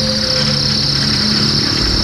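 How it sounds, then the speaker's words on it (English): Loud cicadas in a forest drone in one continuous, unbroken high-pitched buzz that fills the whole moment without pause. "And the cicadas. Sometimes, they are so loud, she can't hear herself think."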